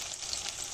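Garlic, cumin and ginger pastes hit hot oil in a pan with whole cumin and bay leaf for a Bengali chicken kosha, giving a brief, steady close-up sizzle and crackle with no talk.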